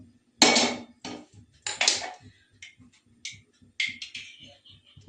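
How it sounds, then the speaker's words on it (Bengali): A metal kadai wok set down on a gas stove while cooking carrot halwa, giving a loud clank followed by several lighter metallic knocks and scrapes in an irregular rhythm, close and without speech. "এবার আমি গ্যাসের মধ্যে একটি কড়াই চাপিয়ে দিয়েছি।"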